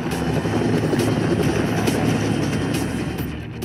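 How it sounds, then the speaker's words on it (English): Helicopter flying overhead in the Nevada outdoors, a loud, steady rotor and engine roar that holds throughout and eases slightly toward the end. "This chopper appears out of nowhere."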